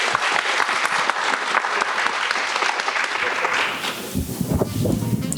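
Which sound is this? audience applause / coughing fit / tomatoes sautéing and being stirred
audience applause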